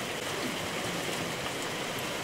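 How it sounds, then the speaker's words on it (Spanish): Steady, dense hiss of rain coming down outdoors in a rural, mountainous area. The broadband wash holds an even level throughout with no pauses, and no one speaks over it. "Pero sí ya llegó lo que es la lluvia."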